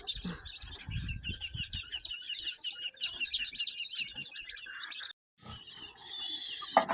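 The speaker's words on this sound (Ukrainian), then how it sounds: "Голубенята ще трішки просять, але вже їдять самі." Young pigeons beg with rapid, repeated high chirps in a steady rhythmic series, close by, with some bumping and rustling below, a brief gap, then more calls.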